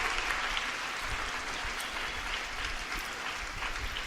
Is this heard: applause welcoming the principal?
yes